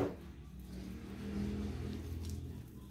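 A motorbike engine heard outside a café, a faint, low droning rumble that swells slightly as the bike revs and passes at a distance.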